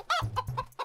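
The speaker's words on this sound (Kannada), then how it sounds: "ಮೋಟಲು, ಒಂದು ಕೋಳಿ ಹಿಡಿಯಕ್ಕಾಗ್ಲಿಲ್ವಲ್ಲ ನಿನ್ ಕೈಲಿ." A cartoon chicken in an animated kids' comedy clucks in a quick burst of three or four short, nasal, close clucks, with no other sound.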